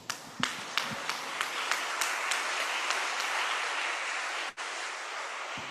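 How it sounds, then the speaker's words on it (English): Audience applause at an international seminar: a few sharp, separate claps quickly swell into dense, steady clapping that carries on loudly, with a brief dip near the end. "audience, please give him a big round of applause"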